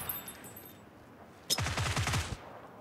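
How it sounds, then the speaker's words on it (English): A rapid burst of automatic gunfire in PUBG rattles off about a dozen quick shots in under a second, loud and close, with quiet background before it. "I'm shooting at a guy, but I can't."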